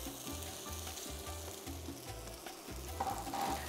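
Cubed yellow potato sizzles in olive oil in a pan, a close, moderately loud frying crackle with faint stirring scrapes and no voices.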